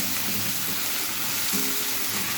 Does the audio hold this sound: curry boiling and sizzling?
yes